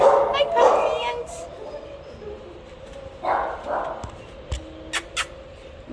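A four-month-old female puppy at an animal shelter yips, barks and whimpers in short bursts, close by, with a person talking softly between the sounds.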